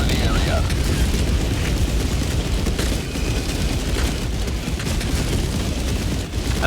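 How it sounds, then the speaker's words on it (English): Orbital barrage strikes in the video game Helldivers 2 pound down as a dense, continuous rumble of booming explosions, loud and overlapping throughout. "Firing orbital barrage."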